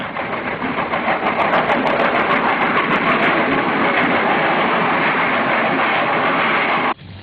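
A train on the century-old Mogiana railway in Brazil rumbles steadily and loudly past at close range, with faint rhythmic clicking over the tracks, until the noise drops off abruptly near the end.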